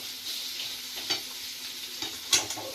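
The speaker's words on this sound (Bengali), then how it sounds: "তো পেঁয়াজটা ভাজা ভাজা হোক" Onions fry in a pan for a peanut mash dish, giving a soft, steady sizzle with a few faint stirring clicks and no talking.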